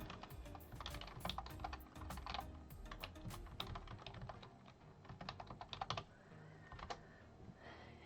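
Someone types a quiz question on a computer keyboard, a close run of quick, irregular key clicks with brief pauses between bursts, clear and alone over a quiet room.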